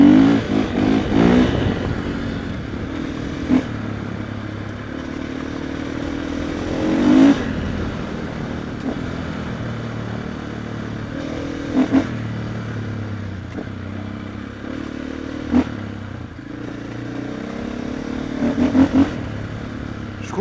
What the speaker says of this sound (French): le bruit du pot d'origine, il est très très sexy